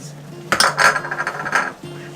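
A spoon stirs seasoning mixed with onion powder and red pepper flakes in a bowl, making irregular clinks and scrapes in a quick burst that settle back to quiet.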